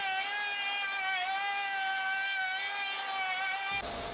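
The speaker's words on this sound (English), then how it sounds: "I'm doing the same test on a new piece of hardwood. Routing in 3 minute sessions." Makita DRT50 cordless router cutting into hardwood, a steady high-pitched whine with strong harmonics and slight pitch dips under load, loud and close, cutting off abruptly at the end.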